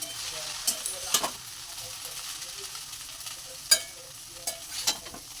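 Chow mein tossed with turmeric is stirred slowly in a pan, giving a soft frying sizzle broken by several sharp scraping clicks of the utensil against the pan.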